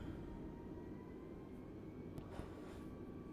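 A simulated A320 airliner taxiing to the runway in Microsoft Flight Simulator 2020, heard as a faint, steady low jet-engine hum with a soft whine, continuous and distant-sounding, no voices.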